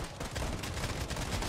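Rapid gunfire rings out in the shooter Bloodstrike as shots are fired into the air, a quick string of sharp cracks packed close together over a short burst, fairly loud with no talking.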